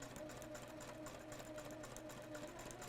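A sewing machine stitches fabric for quilt half-square triangles, a steady, fast, even mechanical whir running throughout at moderate level, with no talk.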